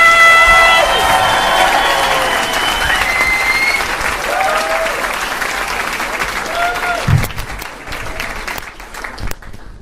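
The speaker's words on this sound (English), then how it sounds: "get the applause going for me, please!" An audience at a charity comedy night applauds and cheers to welcome a comedian to the stage, loud dense clapping that gradually thins out, with a few voices calling out through it.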